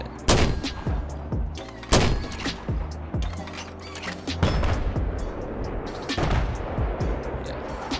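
Heavy mortar fire in Battlefield 4: several loud, booming launches and impacts spaced a second or two apart, with distant gunfire rattling between them and faint talk underneath.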